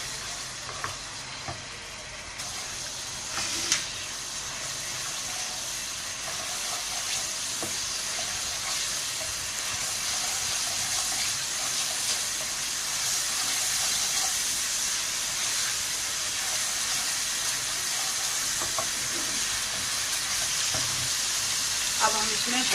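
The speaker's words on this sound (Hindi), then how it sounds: "अभी घी गर्म हो गया। अब इसमें हम ये अदरक लहसुन का जो पेस्ट था वो हम डालेंगे।" Ginger garlic paste sizzling in hot ghee in a pot while cooking achari gosht, a steady loud frying hiss with occasional stirring scrapes that continues for over twenty seconds with no talking.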